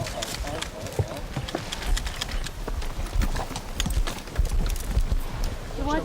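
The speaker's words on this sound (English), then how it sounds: "Watch the horses now." Horse hooves clip-clop on pavement in an uneven rhythm during a 1982 royal visit procession in the USA, mixed with crowd noise and chatter.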